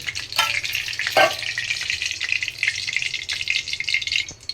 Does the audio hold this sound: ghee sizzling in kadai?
yes